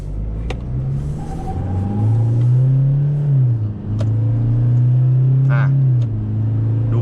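A lifted 2020 Toyota Hilux Revo Rocco 2.8 4WD four-door pickup accelerates hard, its engine drone rising and holding loud and close with a brief dip mid-pull, a few sharp clicks and knocks on top.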